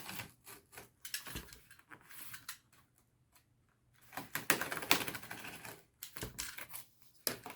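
Knife blade cutting cardboard in short scraping, rasping strokes, close and irregular, with brief pauses between bursts.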